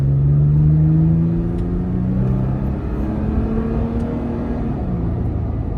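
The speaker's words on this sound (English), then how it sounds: "Now we're pulling out on the road here. Give it a little bit of gas." A 2019 Toyota Tacoma TRD Pro with a non-V8 engine pulls onto the road, its engine droning in a low steady tone that rises and shifts as the truck accelerates, heard from inside the cab.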